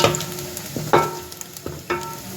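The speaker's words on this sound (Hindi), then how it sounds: "गरम मसाले डाल देंगे खड़े। बस इसको भी हम 2 मिनट फ्राई करेंगे कि बस इसकी खुशबू आ जाए।" Whole garam masala fries with onions in a pot, giving a soft sizzle broken by a few distinct spoon scrapes and clanks against the metal at an irregular pace.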